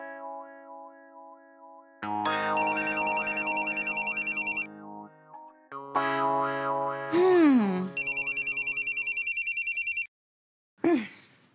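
A telephone rings in a Marathi TV serial scene: loud, fast electronic bell trills come in repeated bursts between sustained musical tones and a few swooping sound effects, ending in a brief quiet gap.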